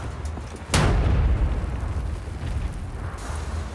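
Dynamite blows open a giant bunker door in Wolfenstein: The New Order, a single loud, sudden blast followed by a long, rumbling roar that slowly fades.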